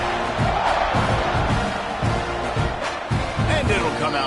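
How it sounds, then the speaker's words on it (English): A football stadium crowd buzzes loudly after a touchdown, a dense continuous roar with rising swells of cheering, while an announcer's voice talks over it. "this crowd is buzzing after that last score"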